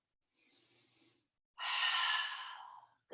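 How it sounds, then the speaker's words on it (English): A deep breath during a yoga low lunge, close and intimate: a soft inhale followed by a longer, louder, airy exhale, then the start of another breath. "Take a deep breath here."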